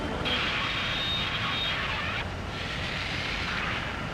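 Steady roar of a jet aircraft engine in the Ace Combat 7: Skies Unknown flight game, loud and continuous throughout with a broad rushing whoosh, no talk.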